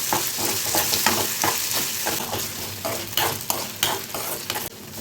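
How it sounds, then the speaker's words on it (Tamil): Tomato and onion with ginger garlic paste sautéing and sizzling in a pan for a butter beans masala, with a steady close fry hiss and repeated stirring scrapes throughout. "நல்லா வதக்கிடலாம்."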